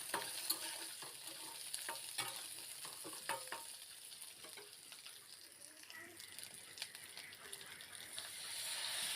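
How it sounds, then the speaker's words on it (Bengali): Thickly cut onions fry in a pan for a village-style fish-head and greens dish, giving a soft, continuous sizzle broken by frequent light clicks and scrapes of stirring, fairly quiet and close. "ঢাকনা তুলে আবারও নাড়াচাড়া করে নিচ্ছি। এবার এখানে ভারী করে কেটে রাখা পেঁয়াজ দিয়ে দিলাম।"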